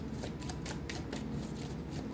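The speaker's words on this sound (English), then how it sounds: "Shuffle this again" Tarot cards shuffled by hand in a quiet room, a soft, steady riffling and sliding of card stock with faint flutters recurring across the moment, close and low in level with no talking.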